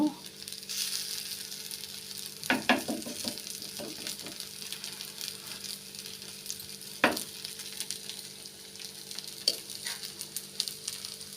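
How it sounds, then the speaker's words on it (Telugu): Ghee sizzling in a pan as it goes in with tomato, onion, garlic and cumin, a soft steady frying hiss broken by a few louder clinks and spoon scrapes, quiet and close. "ఇదండి నెయ్యి వేస్తున్నాను."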